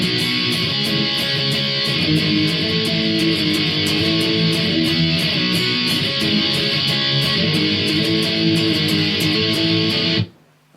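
Heavily distorted electric guitar power chords play the chorus of a song over a backing track with steady drums, a loud, continuous wall of sound that cuts off abruptly at the end.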